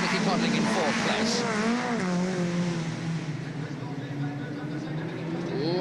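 Rallycross cars and hot rods race at Wimbledon in 1976, engines whining and sweeping in pitch as they pass at close range. A commentator talks over the continuous motor noise throughout.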